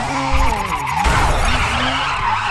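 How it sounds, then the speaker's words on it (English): A Mazda RX-7 drifts in the Grid racing video game, its tires screeching loudly in a brief, harsh skid over a revving engine. "RX-7s are very cheesy on the drifting"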